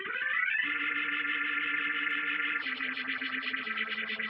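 The Script 90 phaser effect from the Tim P Nebula library for Acustica Audio, applied to a sustained tone, gives a swirling, washy, chorused sound that holds steady, with a pitch change partway through and no voices.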